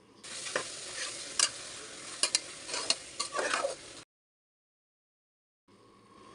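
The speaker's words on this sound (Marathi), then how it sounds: "आपण मसाले चांगले तेलामध्ये परतून घेऊया" Spices and biryani masala fry in oil for a pressure-cooker rice dish, with a close crackle and repeated spatula scrapes and knocks, then a sudden silence and a faint return of sizzling.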